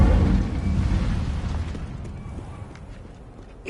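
A fiery whoosh and burst from the Incendio spell in Hogwarts Legacy, a loud low rumbling blast that slowly fades over a few seconds with no talk.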